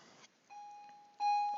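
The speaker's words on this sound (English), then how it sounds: "the bell going off" An electronic bell tone sounds, a steady ringing note starting softly at about half a second, then a louder, brighter ring near the end, with no talking.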